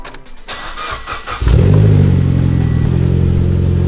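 A Mitsubishi Lancer Evolution X engine, just after an exhaust repair, cranks briefly, catches, and settles into a steady, smooth idle close by.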